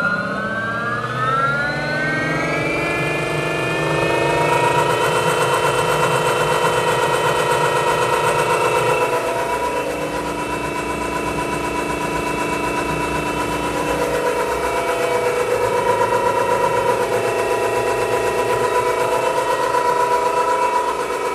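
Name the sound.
Revolt RV-160Em brushless outrunner motor running at 100 amps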